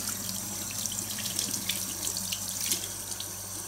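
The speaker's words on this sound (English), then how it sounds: "then you just rinse your hands" Hands are rinsed under a running tap to wash off oil paint, a steady close hiss and splash of water filling the whole stretch without any speech.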